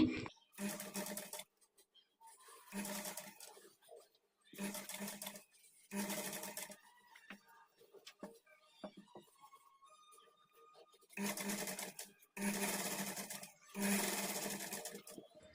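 A sewing machine stitches a facing strip onto a blouse neck in about six separate whirring runs, each a few seconds long with quiet pauses between, close and clear.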